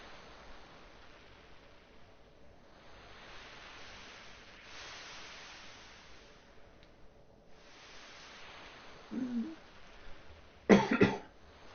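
A character coughing in the original Final Fantasy VII: two brief coughs near the end, one short and then one louder, over a steady hiss of game background noise.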